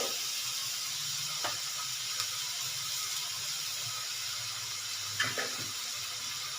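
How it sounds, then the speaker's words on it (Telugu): Sliced onions fry in a pan with salt and turmeric for an egg curry, giving a soft, steady sizzle throughout, broken by a few faint clicks of stirring. "ఉల్లిపాయ బాగా ఫ్రై అయిపోతుంది"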